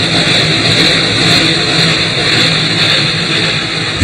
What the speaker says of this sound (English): The engines make a splendid sight as they roar into the hills.